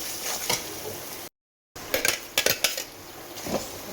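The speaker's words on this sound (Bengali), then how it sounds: "এবার পালং শাকটা দেবো" Spinach is added to a pan of ghee and green chilli paste and stirred, bringing a steady sizzle with clattering spatula-on-pan knocks, close and bright, cut by a brief silent gap.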